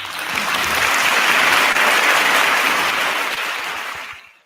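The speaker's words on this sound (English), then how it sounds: "We're going to give a round of applause to those 3 gentlemen" A crowd breaks into a round of applause, a dense, steady roar of clapping that holds at full strength for several seconds before tapering off abruptly.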